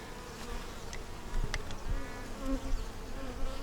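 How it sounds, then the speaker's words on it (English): A steady, dense hum of many honey bees buzzing together at the bottom of a honey-bound hive, with individual insects droning closer now and then over the continuous drone. "I was just watching the bees down here on the bottom."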